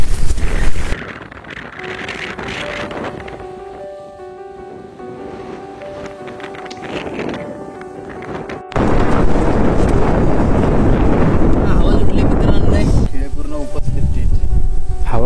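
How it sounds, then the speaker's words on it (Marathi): Strong wind gusting across a hilltop campsite at Sondai Fort around dawn, bending a tent, heard as loud roaring blasts that rise and fall, with a voice briefly heard at times. "वारा सुटला बेकार. टेंटला पूर्ण वाकवतोय वारा."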